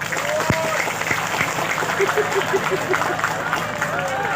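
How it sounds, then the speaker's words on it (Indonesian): An audience at a religious lecture in Pasar Simpang, Sebabi, Kalimantan breaks into continuous applause, dense and even, with scattered voices and cheers rising above the clapping. "Tepuk tangan dulu dong."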